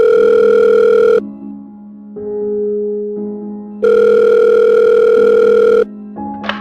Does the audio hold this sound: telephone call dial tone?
yes